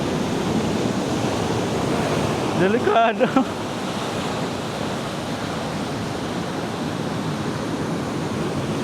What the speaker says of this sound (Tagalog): Grabe hampas ng dagat.